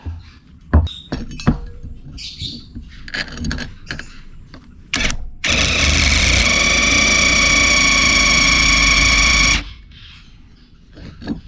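Cordless Bosch GDX 18V brushless impact driver with a cone-type bit drilling into 3.5mm-thick angle bar, a loud steady whirring grind lasting about four seconds, preceded by scattered clinks and handling noises.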